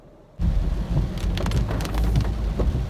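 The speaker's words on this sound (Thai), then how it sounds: "แต่ว่าฝนตกหนักมาก" Heavy rain starts suddenly and pours steadily, a loud dense hiss with scattered drop impacts and low rumbling, close and continuous.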